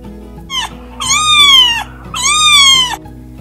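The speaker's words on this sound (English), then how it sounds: "Cried the cat" A cat meows twice in a read-aloud animated children's book, both drawn-out, rising-then-falling cries standing out clearly over soft background music, with no talking.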